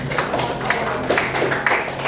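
A classroom gives a group of students a round of applause after their presentation, with dense clapping that holds steady and close for about two seconds and no clear talk over it.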